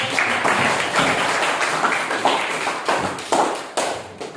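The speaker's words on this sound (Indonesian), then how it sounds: "tepuk tangan dulu untuk teman-teman" Classroom applause with scattered claps and taps, fairly loud and continuous, with a few sharper bursts toward the end.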